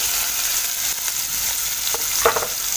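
Onion tossed into hot oil already crackling with mustard seeds, asafoetida and cumin, a loud, dense, continuous sizzle close up, with a few sharper spatters and a utensil knock toward the end; no talking.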